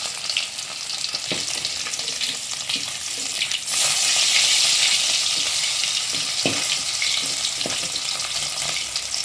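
Fish pieces fry in a little hot oil, a loud constant crackling sizzle that surges midway as pieces settle, with a few scraping knocks from the pan and no voices.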